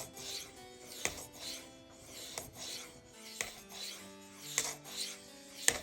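A high-vanadium steel knife blade is drawn across a ceramic sharpening stone in slow, repeated rasping strokes, roughly one per second. Sharp clicks mark the end of each pass, and there is no talk.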